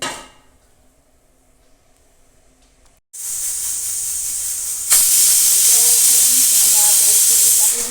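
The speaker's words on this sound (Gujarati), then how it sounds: "અહીંયા રીંગણા આપણા એક સીટી કરીને બાફી દીધા છે" A pressure cooker on a gas stove, steaming brinjal (eggplant) for a vegetable curry, lets out a loud continuous hissing whistle of escaping steam that starts abruptly after a quiet stretch and grows even stronger partway through.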